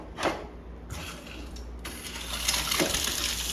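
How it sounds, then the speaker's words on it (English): Water runs from a new kitchen sink faucet, a soft steady hiss and splash that grows a little stronger over a few seconds, with a couple of brief clinks at the start. "we got the water turned on"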